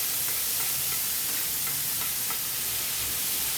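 Onion and tomato sauté in a pan with a dense, steady, close-up sizzle and faint scraping taps of stirring, with no voices.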